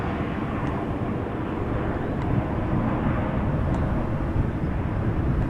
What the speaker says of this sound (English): EasyJet A319 early go around.